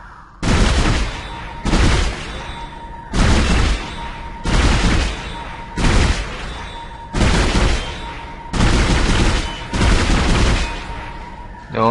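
Gunfire in the sci-fi horror video game Dead Space, with loud, booming volleys of shots that repeat in an even rhythm about every second and a half, each burst followed by a short tail.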